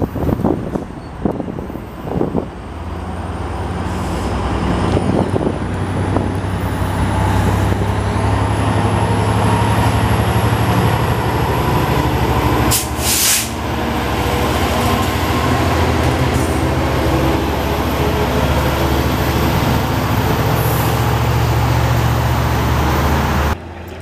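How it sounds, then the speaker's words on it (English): An EXO FP59H hybrid commuter locomotive in Montreal rumbles past nearby with a loud, steady diesel drone and rolling wheel noise, building in the first seconds and holding through the end, with no talk. "Here's one of these overpriced hybrid commuter train locomotives that just came out of the yard there."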